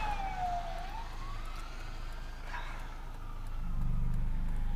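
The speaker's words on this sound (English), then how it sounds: "Oop, there's an ambulance." An ambulance siren wails past on a road, its sweeping tone rising and falling at moderate distance over steady traffic rumble, with a heavier vehicle passing close near the end.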